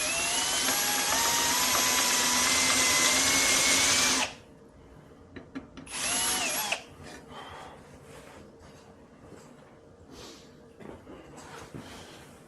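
A power drill whines loudly and steadily for about four seconds while boring a shallow countersink hole, then stops. After a pause comes one short burst, followed by quiet handling clicks and small knocks.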